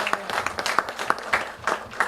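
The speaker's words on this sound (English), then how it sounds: "Can we give a clap to that?" An audience at a gala applauds in a dense, steady patter of many hands, moderately loud and continuous, with faint crowd noise mixed in.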